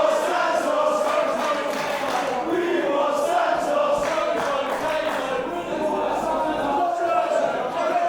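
Wrestling crowd at an International Pro Wrestling event in Milton Keynes, a steady roar of voices, chants and shouts filling the hall, with a commentator talking over it.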